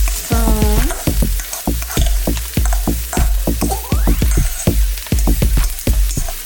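Carrots, chickpeas and red pepper fry in a pan with a steady broadband sizzle, punctuated by a rapid, regular series of loud spatula scrapes and knocks against the pan throughout.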